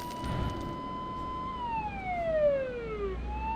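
A police car siren in the Euro Truck Simulator 2 driving game wails steadily and then sweeps downward in pitch as it passes, over a constant low road and engine rumble.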